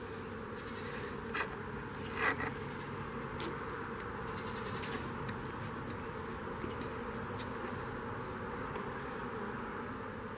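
A swarm of bees buzzes outdoors near a soccer field, a steady droning hum surrounding the listener, with a couple of brief nearby rustles.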